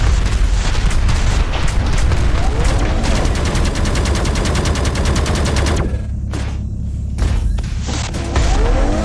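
Rocket explosions in the DYSMANTLE video game during a fuel cell boss battle: loud, dense booms and rapid blasts pound continuously, briefly easing before resuming, with no voices.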